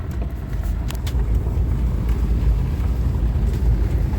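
Subaru Forester driving on a road during a test drive after rear sway bar link repair, a steady low road rumble and engine drone with some wind noise, no talk.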